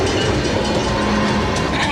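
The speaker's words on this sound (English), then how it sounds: "Here comes the choo-choo." A train roars past at a railroad crossing, heard close up as a dense, continuous rumble with rattling wheels and no breaks in the noise.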